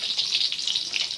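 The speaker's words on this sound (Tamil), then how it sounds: "முருங்கைக்காய் போடுறேன்" Drumstick pieces dropped into hot oil for sambar, a steady bright sizzle of frying that holds at moderate loudness throughout, no voices.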